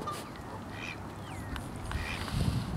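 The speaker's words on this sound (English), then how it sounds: "Might have had a hatchery right here with some ducks and geese." Ducks quack and geese honk in scattered calls amid outdoor background noise at a nature center in Michigan, several birds at moderate distance with no talking.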